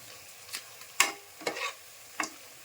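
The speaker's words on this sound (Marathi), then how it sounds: "मग थोडी खसखस घालून घेऊया." A spoon stirs poppy seeds into a sticky jaggery and coconut filling, giving a few soft scraping strokes that sound close and quiet with pauses between them.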